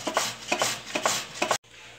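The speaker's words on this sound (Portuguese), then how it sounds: "ralando a batata" Potatoes being grated by hand, four rhythmic rasping strokes close up, then an abrupt stop leaving quiet room tone.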